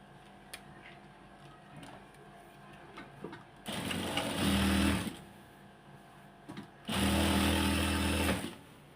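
A sewing machine stitches the hem of a salwar in two quick bursts of fast, buzzing whirring separated by a pause, with light handling clicks in the quiet between runs.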